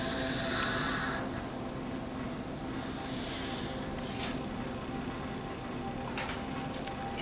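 A pen stroking across paper as the wing of a Zentangle owl is drawn, giving soft scratchy drawing strokes in a few bursts against a steady low background hum, close up and with no talking.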